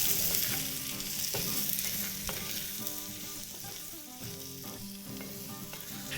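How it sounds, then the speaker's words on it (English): Diced potatoes and bacon frying together in a cast iron skillet for a breakfast hash, a steady sizzle broken by the rhythmic scrape and knock of a utensil stirring, no one talking. "And we'll give this a stir."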